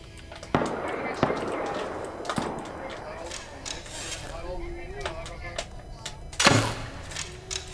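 Gunfire in a first-person shooter video game: sharp, close shots at irregular intervals, a few single cracks spread over several seconds, with a later louder burst, while players talk.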